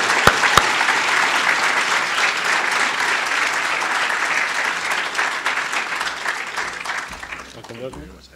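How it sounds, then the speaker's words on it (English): An audience at an academic lecture breaks into a full round of applause, a dense steady wash of clapping that tapers off at the end, with a voice briefly heard as it fades. "Let's give them a big round of applause."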